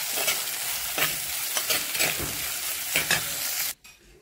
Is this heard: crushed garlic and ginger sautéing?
yes